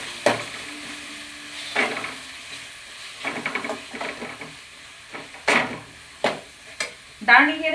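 Tomatoes with salt sizzle in a hot pan while a utensil stirs and scrapes them, giving soft frying hiss broken by irregular close clinks and scrapes, with no talking.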